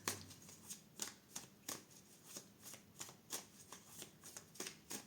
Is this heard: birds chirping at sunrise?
no